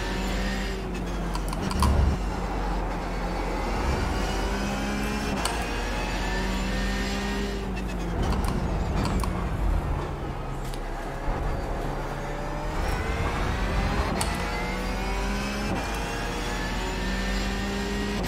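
A Porsche 911 GT3 Cup engine at full throttle in the iRacing game at Laguna Seca, with a loud, sustained rising-and-falling howl as gears shift, and brief tyre and shift noises over it.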